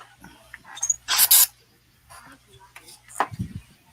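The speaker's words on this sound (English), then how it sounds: "Had to get the cat spray out." Two short hissing bursts of a cat repellent aerosol spray can, separated by quiet pauses, with faint speech and clicks around them.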